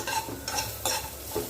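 Onions being fried for a Jaffna-style coconut and chili sambal: four quick bursts of stirring and sizzling, scraped in a steady rhythm, close and fairly loud with no talking.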